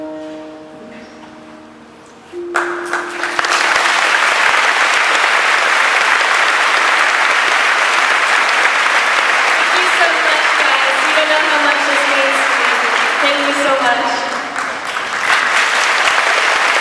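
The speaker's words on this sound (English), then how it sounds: "everybody give her another round of applause" Loud, sustained applause and cheering from a high school audience after a spirit week speech, building suddenly after a brief quieter moment and continuing densely, with faint voices and whoops mixed in.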